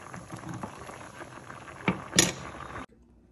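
Cooked pasta for macaroni and cheese is drained, with hot water pouring and splashing steadily into a kitchen sink. Near the end come a couple of sharp pot clatters, then the pour stops abruptly into near silence.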